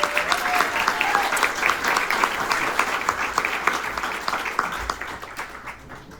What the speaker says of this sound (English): let's give a warm round of applause for Emma.